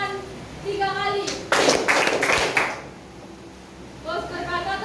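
A group of children clapping hands in a classroom game, a short burst of claps in the middle, with someone speaking before and after.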